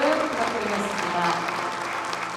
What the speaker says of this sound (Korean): 큰 박수를 부탁드리겠습니다.